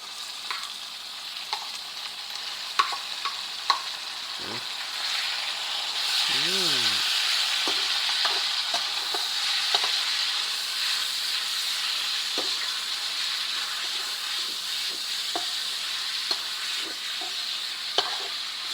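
Pork goes into a pan with fragrant fried garlic for stir-fried asparagus with pork, making a continuous close sizzle with repeated spatula scrapes and taps throughout and a brief whistling tone in the middle.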